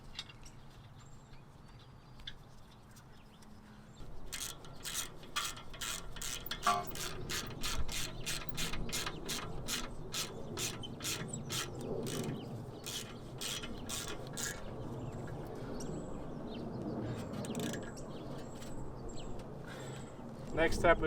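Rapid ratchet clicking as a Torx 50 bolt is tightened on a new rear brake rotor of a Range Rover L405, a long steady run of sharp close clicks over workshop background, with talk nearby.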